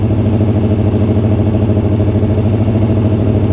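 A stunt motorcycle's engine runs steadily and loud at close range, a continuous throbbing drone with no talk over it.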